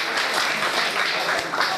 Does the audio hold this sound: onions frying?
no